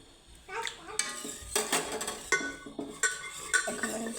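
Pre-boiled pasta tipped into a pan for white sauce pasta and stirred, with a run of close metallic scrapes and clatters coming in short bursts about every half second.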